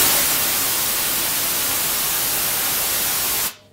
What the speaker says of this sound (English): There you go, simple white noise.